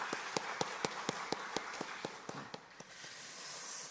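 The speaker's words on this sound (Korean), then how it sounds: "우리 박수로 한번 격려하겠습니다" A church congregation applauds the Sharon praise choir with faint, evenly spaced claps, about four a second, that gradually slow and fade out, leaving a soft hiss.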